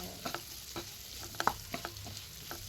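Cauliflower being stirred and lightly fried in oil, quiet scraping and tapping strokes over a faint, gentle sizzle.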